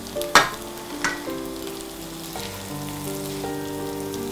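Small steamed kozhukkatta rice dumplings, quail-egg sized, frying with chilli masala in a pan give a steady sizzle, with a few scraping stirs and clatters near the start and sustained frying throughout.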